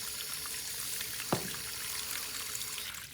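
Water poured into a container to mix with salt, a faint trickle with one brief splash-like sweep near the middle, heard alone at low level.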